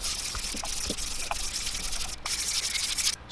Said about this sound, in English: There's a lot of sanding in lure making. I'm at 320 grit.